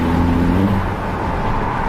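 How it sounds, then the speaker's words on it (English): Turbocharged engine of an Audi A3 TFSI with around 200 bhp and a K&N air filter revs briefly, a close, loud whirring drone that rises and then holds, with no voices. "It's the noise of the turbo."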